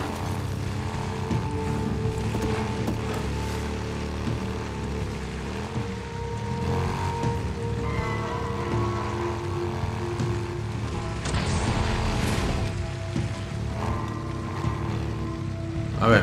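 Motorcycle engine droning steadily while riding in Days Gone, a continuous rumbling hum with wind-like wash, loud and close throughout.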